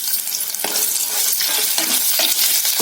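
Onions fry in a pan for a chicken red roast, giving a loud, steady sizzle broken by repeated scraping stirs of a spatula.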